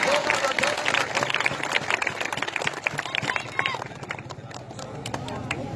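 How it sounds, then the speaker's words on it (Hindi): A crowd applauds a cricket team at a tournament final in Mianwal Ranjha, with lively outdoor clapping and cheering under an announcer's loud voice that fades toward scattered claps near the end. "शेबी सिंधी और तमाम हेला के लिए जोरदार तालियां"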